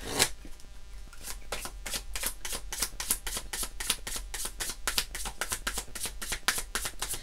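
A deck of Black Moon oracle cards is shuffled and drawn, producing a long, steady train of crisp riffling flicks, close and fairly quiet, with no talking.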